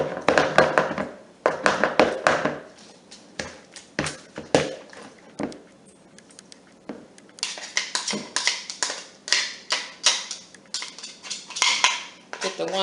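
Juicy strawberries being scraped and knocked out of a kitchen masher, with repeated clinking and scraping of metal against a bowl in irregular bursts, close and fairly loud, with brief quiet gaps.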